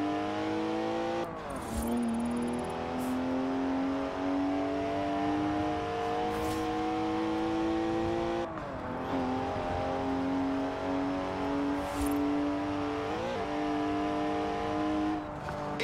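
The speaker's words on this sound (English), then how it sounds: "Three-litre straight six, 335 horsepower, two turbos," A twin-turbo three-litre straight-six car engine revs loud and close, climbing through repeated rising pulls with brief drops at each gear change, steady and continuous with no speech.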